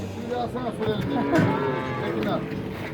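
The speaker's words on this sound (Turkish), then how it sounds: "Birazdan Aylin bir tane dana besleyecek." A young calf moos repeatedly while being bottle-fed on a farm, with drawn-out, close, loud bawling calls one after another and other cattle sounds around it.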